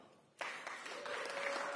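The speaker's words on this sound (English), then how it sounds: "That deserves a round of applause." Audience applause at a sports commission kick-off event bursts in suddenly after a quiet moment and holds as a steady, fairly faint wash of clapping from a room full of people.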